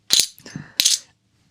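Coins drop into a box during a coin magic penetration routine, making a few sharp metallic clinks: two quick strikes, a softer rattle, then one more bright clink, close and clear with no talking.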